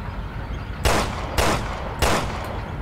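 Gunfire in the video game Resident Evil Revelations 2: three loud, sharp shots spaced roughly half a second apart, punchy and close over a constant background rumble.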